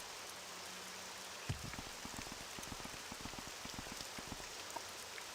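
Steady rain pours down over the town of Balmora in the Morrowind video game, a dense even hiss with many close patters of drops spattering on surfaces, continuous throughout with no talk.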